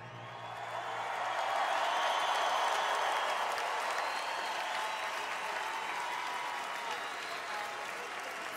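Large crowd applauding at a live concert tribute performance, broad sustained clapping that swells and holds with scattered whoops, heard from a distance.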